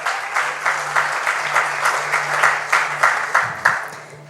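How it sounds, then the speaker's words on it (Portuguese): Church congregation applauding for Jesus during a worship service, steady rhythmic clapping in unison with regular beats, fairly loud and close, with a low sustained hum underneath. "Pode aplaudir a Jesus,"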